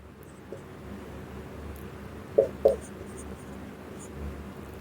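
Chalk or marker scratches across a board during a classical mechanics lesson, with two quick distinct strokes midway over a quiet room hum.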